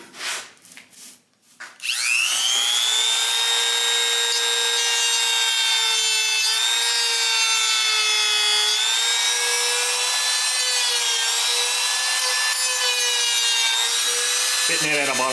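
A Bauer angle grinder converted to run on a DeWalt battery spins up after a couple of seconds of handling noise, then holds a steady, loud, high whine as its small sanding disc works the piece at about a 45-degree angle. No one talks.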